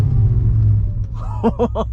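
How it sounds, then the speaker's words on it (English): Nissan Skyline R34 engine idling while warming up, a low steady rumble close by, then a series of four short rhythmic bursts rising above the idle near the end. "So we're gonna warm the car up a little bit here."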